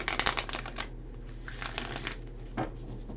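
Tarot cards being shuffled up close, a quick flurry of riffling and flicking followed by softer sliding and a final tap.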